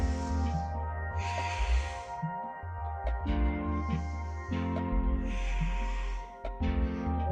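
Slow, deep breaths drawn in and out during a standing yoga forward fold with the hands bound at the wrists or elbows, four long airy breaths rising and falling over a steady tonal music bed.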